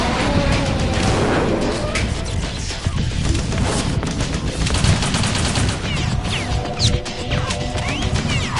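Dense, chaotic gunfire and crashing impacts from the Metal Gear Solid 2 video game, loud and continuous throughout with sharp bursts layered over a heavy rumbling battle din.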